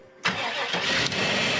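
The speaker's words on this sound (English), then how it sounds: "We're about to fire it up and see what it does." An LS engine with a serpentine belt that keeps flying off fires up after a short cranking burst. It catches at once and settles into a loud, steady idle close by, with no voices.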